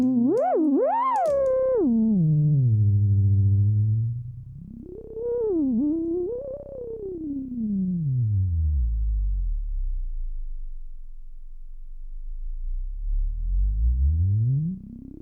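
Sweeping Yamaha GX1 synthesizer tones with a sharp, whistling high-resonance filter gliding slowly up and down, bright and piercing at times, then dropping into low rumbling sweeps.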